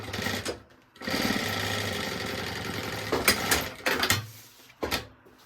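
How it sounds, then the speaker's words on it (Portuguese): A sewing machine stitches fabric for a baby organizer, running in one long steady mechanical hum with a buzzing needle rhythm, then stopping and restarting in short bursts. It is close and loud, with no talk over it. "Vou costurar na margem de 1 centímetro."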